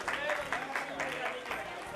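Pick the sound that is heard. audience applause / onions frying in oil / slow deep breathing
audience applause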